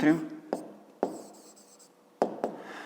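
A pen writing an answer by hand on paper for a fifth-grade maths exercise: a few short, crisp scratching strokes and taps, close and quiet, separated by pauses, with a voice speaking at the start.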